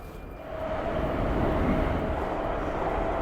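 Prague metro train pulling into Nemocnice Motol station, a steady loud rumble with a sustained whine that swells in during the first half second and holds.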